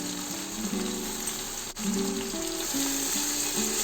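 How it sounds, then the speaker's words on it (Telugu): Methi leaves frying in a pot for an Ambur-style country chicken biryani give a steady, close, wet sizzle with a few brief hums and tones over it. The sizzle continues without pause and no one speaks. "ఒక 2 మినిట్స్ ఫ్రై చేసుకోవాలి"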